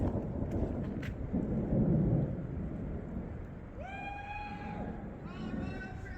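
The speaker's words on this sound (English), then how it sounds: "Thunder sounds weird." Low, rolling thunder rumbles over steady rain, followed by a few short tonal wails that rise and fall.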